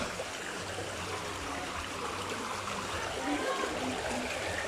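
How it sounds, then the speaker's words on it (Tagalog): Strong creek current rushing after a heavy rain flood, a dense continuous roar of water at moderate distance, with a voice speaking over it. "ang lakas ng alon ng ang lakas ng agos ng sapa oh"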